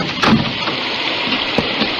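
Rain and splashing water as a radio drama effect for a flooded road at night, a steady wash of broadband noise with a couple of brief louder splash bursts.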